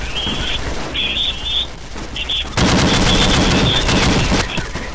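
Rapid automatic gunfire in the zombie shooter SMOD Outbreak, loud and close, with sustained bursts, brief pauses and a whistling tone threaded through the shots.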